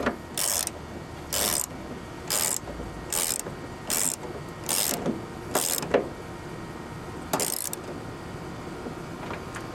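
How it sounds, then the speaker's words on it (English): GearWrench ratchet clicking in short bursts, about eight separate runs of rapid pawl ticks spaced roughly a second apart, close and fairly clear over quiet room tone. "These are Gear Wrench's new style ratchet. These are awesome. I'll show you how they work."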